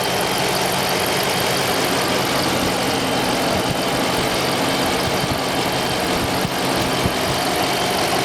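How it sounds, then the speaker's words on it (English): A 2016 Dodge Charger 5.7 HEMI, a former Nevada Highway Patrol car, idles steadily up close with a smooth, even rumble and no other sounds. "let's listen to the engine a little bit."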